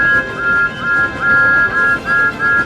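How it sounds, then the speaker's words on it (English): Steam locomotive whistle sounding a sustained, steady high tone in repeated pulses, loud and close over a busy background hum. "Thomas whistled to get the signalman's attention"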